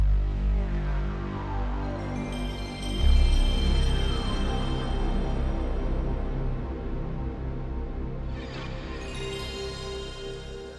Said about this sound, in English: We're getting our PlayStation sounds.